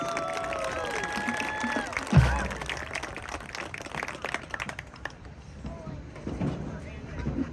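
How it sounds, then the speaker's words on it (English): Audience at a Brookside Cardinal marching band show breaking into applause and cheering after a short loud thump, the clapping fading over several seconds under a busy crowd murmur. "Let's give a round of applause."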